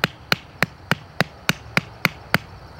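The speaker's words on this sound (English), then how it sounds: "you could pound some tent stakes" A Mossy Oak 19-in-1 multitool hammer drives a carved tent stake, striking nine sharp, evenly spaced blows at a steady quick rhythm, close and clear with no talk.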